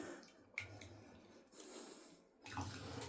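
A doll's hair is dipped a couple of times into a cup of boiling water, giving faint, brief sloshing and dripping splashes close to the microphone in two short bursts separated by quiet.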